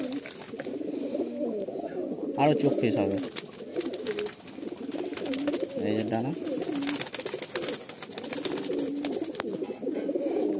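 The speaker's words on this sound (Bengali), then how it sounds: "এই যে পায়রা" Madrasi pigeons in a loft give repeated soft, throaty coos nearby, with brief wing flutters, while someone talks over them throughout.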